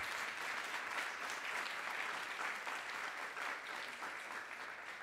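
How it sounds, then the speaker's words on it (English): Steady, dense applause from an event audience at a Harvard gathering on modern-day slavery, sustained and even throughout with no voices over it. "Well worth a round of applause."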